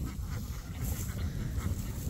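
A flock of laying ducks quacks faintly in a rural Vietnamese setting, soft overlapping calls in a low, muffled background with no clear speech.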